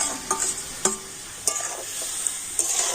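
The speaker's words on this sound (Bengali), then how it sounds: "এবারে কড়াতে আমি কিন্তু এভাবে একটু নাড়াচাড়া করে নিলাম" Raw mango pieces and partly melted sugar stirred in a kadai for a sweet mango pickle, a continuous bubbling sizzle punctuated by several sharp spatula scrapes against the pan, close and clear with no talk.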